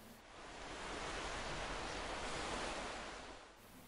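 Steady rushing surf of sea waves, a broad continuous wash that swells and fades, with no voices.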